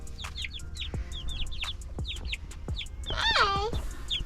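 Several small chickens cluck in short, close, repeated bursts in a backyard coop, with a louder squawking flurry near the end and a voice speaking softly underneath.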